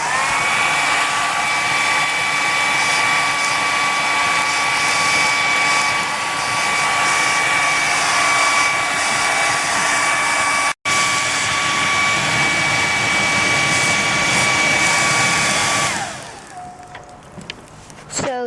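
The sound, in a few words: hair dryer blowing on charcoal fire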